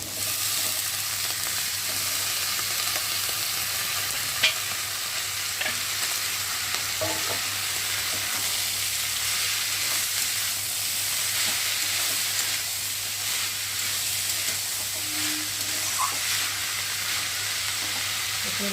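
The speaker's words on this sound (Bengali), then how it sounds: "আর এখন আমি এই যে মশলা সিদ্ধটাকে দিয়ে ভালো করে একটু কষিয়ে নেব।" Banana flower fries with potatoes and a cooked spice paste in a pan, producing a long, even sizzle with occasional small clicks and scrapes from stirring.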